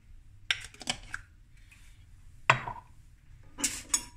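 Salad dressing being stirred into a brown rice salad with a spoon, giving a few scattered clinks and scraping stirs against the bowl, close and fairly quiet.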